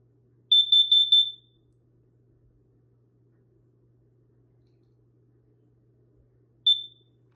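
Kidde Nighthawk KN-COSM-IB smoke and carbon monoxide alarm sounding: a quick burst of four shrill beeps, a long silence, then a single beep, close and clear.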